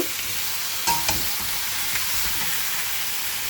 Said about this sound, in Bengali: এবার চিকেন দিয়ে দিলাম পেঁয়াজের মধ্যে চিকেনটাও পেঁয়াজের সাথে একটু ভাজা ভাজা করে নেব